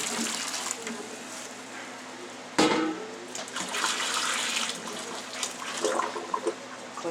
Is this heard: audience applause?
no